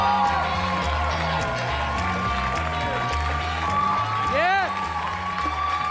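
A comedy club audience claps and cheers to welcome a comedian to the stage, lively sustained applause with whoops, over background music and a brief spoken word.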